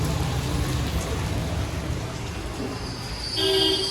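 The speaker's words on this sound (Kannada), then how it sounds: "ಸಡನ್ನಾಗಿ ಜೋರಾಗಿ ಮಳೆ ಬರುತ್ತೆ." Heavy rain comes down suddenly, a loud, dense, continuous wash of hiss and patter close by, with a faint tone rising near the end.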